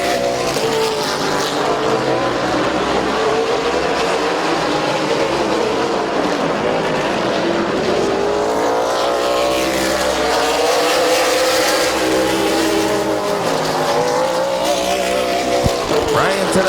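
Race cars roar around the oval at Midvale Speedway, a loud continuous engine drone with passing pitch sweeps and occasional tire squeal, dense and unbroken throughout.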